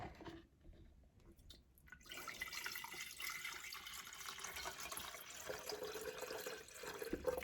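Water pours steadily into a glass and stainless steel electric kettle, a continuous splashing fill that starts after a quiet moment and carries on at close range.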